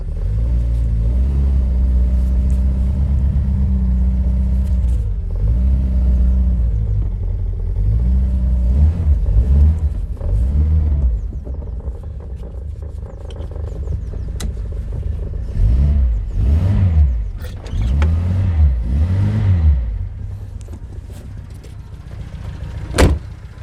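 A car engine runs steadily for a while, then revs up and down in repeated surges, loud and close, with no talking.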